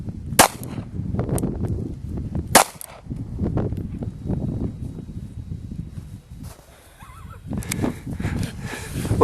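A tiny Ruger LCP pistol fired outdoors in snow, with two sharp close shots early on and a few more cracks toward the end, while people talk throughout.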